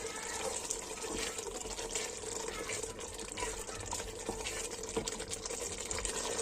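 Hot water poured into a pot of shrimp soup, a steady broadband splashing stream running continuously throughout, fairly close and even in level, with no talking.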